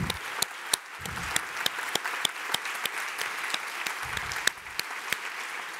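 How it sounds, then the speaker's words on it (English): An audience at a live talk event claps steadily and fairly softly, with a few sharper, louder claps standing out over a continuous patter, and no talking. "Yes, you can clap for them on their way."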